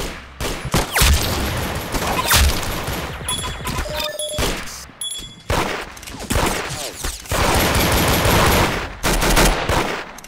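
Rapid gunfire from a shooter video game in a gun-game mode, dense overlapping bursts and single cracks with impacts and crashes throughout, loud and continuous with no speech.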